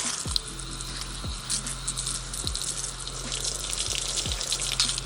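A steady stream of water rinses a Toyota Tacoma TRD air filter outdoors, a continuous close splashing hiss, with a low hum and a few soft thumps beneath it.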